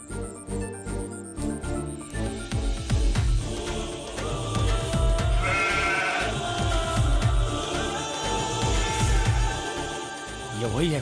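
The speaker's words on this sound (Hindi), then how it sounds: "बकरी की चिल्लाने की आवाज आ रही है, लगता है वो इधर ही है।" Several goats bleat repeatedly amid rustling and small jingling sounds, with voices talking over parts of it.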